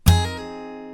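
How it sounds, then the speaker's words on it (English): Acoustic guitar played with a muted thumb slap, index-finger flick, and a pinky hammer-on and pull-off, giving one sharp percussive strike followed by sustained, slowly decaying string tones, close and alone. "So you need to do the muted slap, flick your finger, and then hammer on, pull off all at the same time"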